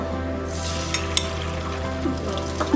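An egg frying in hot oil in a pan for chicken fried rice, a steady close sizzle with a few faint clinks, no talking.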